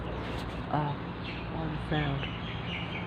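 Small birds chirp a few short, bright calls against a hissing outdoor background, with faint low rumble underneath.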